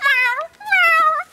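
A person's voice imitates a cat's meow in two drawn-out, rising and falling calls, close and loud, with a brief pause between them.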